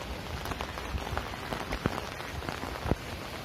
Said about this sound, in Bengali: বাবা কি বৃষ্টি!